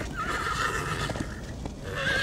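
A horse in the Minecraft Story Mode video game whinnies loudly, two high neighs separated by a stretch of hoof clip-clops, close and with no talking.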